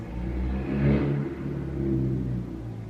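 A car engine revs outside, a low rumbling drone that swells twice before settling, muffled as if heard through walls.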